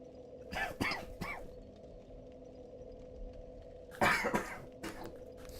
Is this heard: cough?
yes